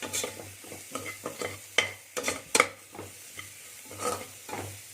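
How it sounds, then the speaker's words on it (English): Spices being stirred in a frying pan while making dum aloo, a spoon scraping in quick uneven strokes over a soft sizzle, close and moderately quiet, with no talk. "So I'm just gonna quickly stir this."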